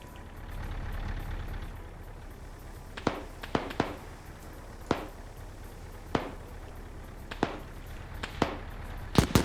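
Sharp single reports of .50 caliber machine gun fire crack out at scattered intervals in an Indochina-era PvP war game, rising over a low, constant rumble of battle ambience.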